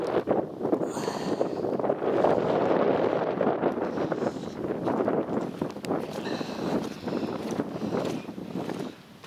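Strong outdoor wind buffets the microphone in a steady, loud broadband rush on an open, stormy day just after a rain cloud passes, with no voices.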